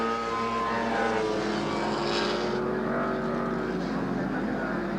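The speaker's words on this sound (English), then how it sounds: "And Geoghan on the outside, overtaking another car." Production touring cars race on a wet track at Warwick Farm Raceway in 1969, engines droning and whining steadily in a continuous roar as one car overtakes another on the outside, with commentary speech over the top.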